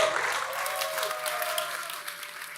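An audience applauds Gavin Wood as he takes the stage at a conference, steady dense clapping filling the room, with a faint voice or tone running beneath it.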